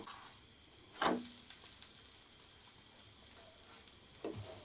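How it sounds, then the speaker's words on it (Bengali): An egg paratha is flipped in a pan with a soft clatter, and a gentle sizzle rises and then settles. A faint second clink follows near the end, all quiet and close. "এক সাইড মোটামুটি হয়ে গেছে এখন আমি আস্তে করে উল্টিয়ে দিচ্ছি"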